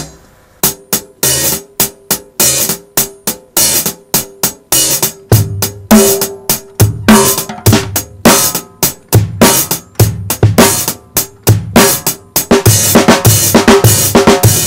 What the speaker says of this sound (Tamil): ஹைஹட் ஓபன் பண்ணி வாசிக்கிறது.